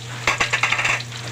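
Onion hits a hot pan while fried rice with crispy pata is being cooked, setting off a quick burst of scraping stirs and sizzling hiss over a faint steady hum, close and fairly quiet.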